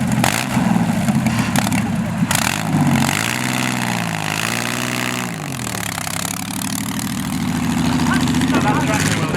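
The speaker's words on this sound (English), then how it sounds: "So that tractor will now do about 40 miles an hour on the road." A classic tractor engine runs at a classic vehicle show, a loud, steady chugging drone that rises and falls as it revs, with people talking over it.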